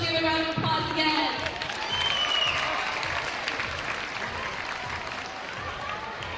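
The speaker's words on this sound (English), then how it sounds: "Give a round of applause again." Crowd in a high school gym at a varsity boys basketball game, Lutheran High School vs Bishop DuBourg, breaks into sustained applause, with some cheering and a few background voices mixed into the clapping.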